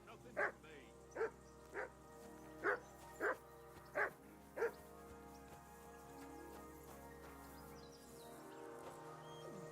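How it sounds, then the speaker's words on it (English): A dog in the video game Noita barks in a regular series of seven sharp woofs over the first five seconds, then stops, leaving a low, steady game soundscape with a faint tonal drone. "That barking was a pain in the ass."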